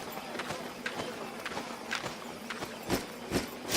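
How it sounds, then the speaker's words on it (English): Armored footsteps in the video game Albion Online, a steady run of crunchy, clanking steps about twice a second, moderately close, with the last footfalls louder. "So our footsteps will be showing that which armor are you wearing."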